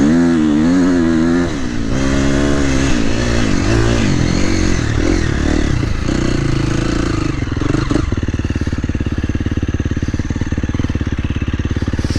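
A KTM 350XCF dirt bike engine revs hard at full throttle, climbing and shifting through rising pitches before settling into a loud, steady high-rev roar, close and constant throughout.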